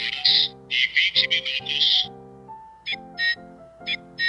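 A talking clock's electronic alarm chime plays a repeating melody of bright, bell-like tones, with a short pause before quieter beeping notes return.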